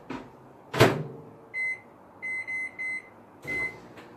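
A microwave oven is worked at close range: a door thuds shut, then a run of short, clipped keypad beeps sounds in irregular succession, a final beep follows, and a low hum starts as it runs.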